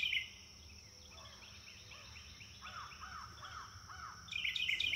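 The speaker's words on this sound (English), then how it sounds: "Falcon." A falcon calls in a series of short, arched cries that come in clusters, fairly faint against a soft background, with bright chirping bursts at the very start and end.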